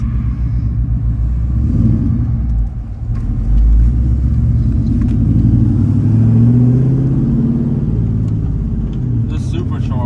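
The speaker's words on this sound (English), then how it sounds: "It's supercharged" Deep, rumbling supercharged Toyota 86 engine idling and surging, a loud continuous low growl close by, with people talking over it.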